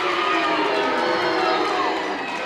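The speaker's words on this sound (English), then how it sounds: "the Buckeye student section is now booing the ref" Student section crowd booing the referee at a high school basketball game, a loud, steady wash of massed voices that holds throughout and eases slightly at the end.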